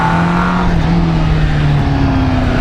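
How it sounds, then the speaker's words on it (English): A 1996 Kawasaki GPX 600R with a 592cc engine revs hard, its close, loud, buzzing engine note climbing and shifting pitch continuously with no voices over it. "Sounds like typical Kawasaki revviness that you get."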